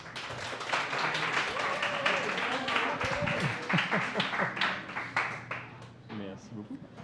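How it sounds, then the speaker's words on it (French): Scattered clapping from an audience welcoming a speaker to a biodiversity talk in Montreal, uneven and thinning out, with voices murmuring through it. "Je vous invite à l'accueillir avec beaucoup d'applaudissements."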